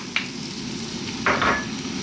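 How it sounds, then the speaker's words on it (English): Onion sizzling in olive oil in a pan, a steady close crackling fry with a couple of brief stirring scrapes. "We're going to start off by dropping in that onion"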